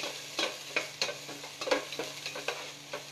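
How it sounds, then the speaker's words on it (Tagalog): Onion sautéing in a pan for chopsuey, a soft steady sizzle broken by repeated scraping stirs at an irregular rhythm, fairly quiet and close with no talking. "Siyempre, gisa natin mabuti."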